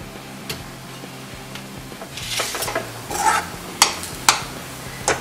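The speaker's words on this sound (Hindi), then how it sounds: "ये 3-4 मिनट के लिए हमने इसे अच्छे से मिक्स करके ये देखिए गरम कर लिया है" Spatula scraping and stirring a samosa filling with salt, red chili powder, turmeric, chaat masala, garam masala and coriander leaves in a hot pan. Soft sizzling sits under it, and several sharp clinks against the metal come near the end.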